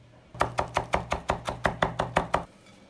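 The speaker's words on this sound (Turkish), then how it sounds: "Yarım demet maydanozu ince ince doğruyoruz." Half a bunch of parsley is finely chopped with a knife on a board for şeftali kebabı, about a dozen rapid, evenly spaced chops ringing close and loud, then stopping abruptly, with no voices.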